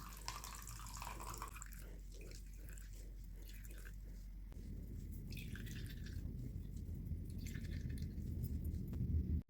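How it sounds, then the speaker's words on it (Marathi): Water dripping and squishing out of freshly made paneer as it is pressed by hand for rasgulla, a faint, steady trickle that grows slightly denser over several seconds. "आता ह्याच्यातलं पाणी आपल्याला पूर्ण असं काढून घ्यायचं आहे दाबून दाबून"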